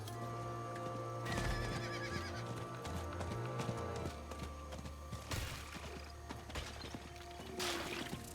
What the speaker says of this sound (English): Yeah, we zoom with the horse, man.